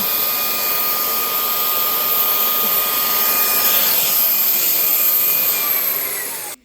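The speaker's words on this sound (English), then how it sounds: "So I hoover by, oh, it does a little bit." Battery-powered vacuum cleaner hoovering cobwebs indoors, a loud, steady close-up whine with a high tonal whistle running unbroken for several seconds before it abruptly cuts off at the end.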